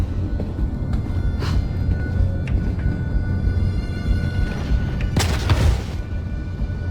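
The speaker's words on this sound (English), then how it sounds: "what's that explosion?" Explosion aboard a Javelin capital ship in the game Star Citizen, a loud deep boom rising out of a steady rumbling interior din near the end, with smaller thuds earlier.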